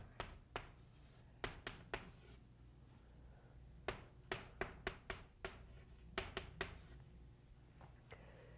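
Pen or marker writing out a math expression for a parabola's roots on a surface, faint short scratchy strokes and taps coming in irregular bursts, close and quiet.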